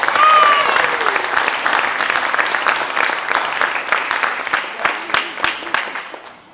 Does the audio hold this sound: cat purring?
no